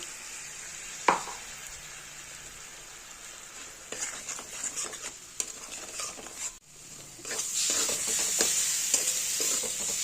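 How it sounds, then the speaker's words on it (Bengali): Spice paste (masala) fries in a pan during cooking of a catla fish curry with potato and cauliflower, a steady close sizzle with occasional stirring clinks and a sharp hiss rising louder toward the end. "মশলাটা অনেকটা কষানো হয়ে এসছে"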